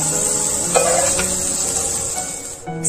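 Cluster beans (gawar phali) stirred and frying in a hot kadhai with oil and turmeric, a steady close sizzle with a few scraping stirs of the spoon against the pan.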